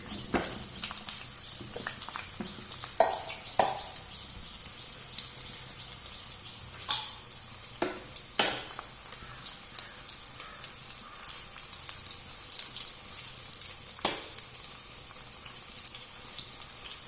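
Pieces for ghee rice fry in hot oil, a steady soft crackling sizzle throughout with occasional sharper pops and clatters, close but fairly quiet and with no talk.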